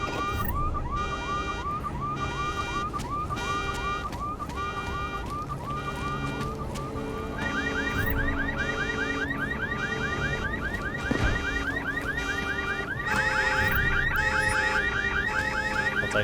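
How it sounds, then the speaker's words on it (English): Several car alarms going off at once in the video game Deus Ex: Mankind Divided, loud overlapping electronic siren tones and repeating chirps that layer up as more alarms join in. "if I pop these alarms on the cars, no one's going to come, right?"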